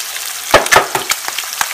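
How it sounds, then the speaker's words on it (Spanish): An egg frying on top of ham in a hot pan, a close sizzle with a few sharp crackles and pops over a steady hiss. "vamos a poner nuestro huevo a freír"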